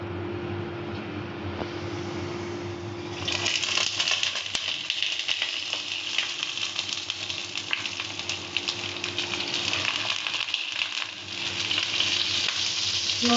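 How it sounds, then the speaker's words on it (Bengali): Oil hisses and sizzles in a hot kadai on a gas stove, a quiet hum at first that jumps into loud, steady, crackling frying partway through and stays close and constant, with no talking. "কড়াই গরম হয়ে গেছে, তো চলো এবার তেল দিয়ে দিই।"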